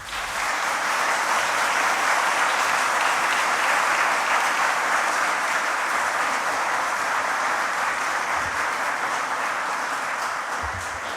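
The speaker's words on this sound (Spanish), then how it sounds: "El público les puede brindar un merecido aplauso." Sustained audience applause at a Supreme Court swearing-in ceremony for new lawyers: a large, steady wash of clapping that stays loud and even for about eleven seconds before easing slightly.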